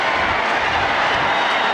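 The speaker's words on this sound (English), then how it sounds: "cheering the New Orleans Saints with time running down" A packed stadium crowd roars for the New Orleans Saints at a 1995 NFL home game against Miami, a dense, loud, unbroken wash of cheering lasting just under two seconds.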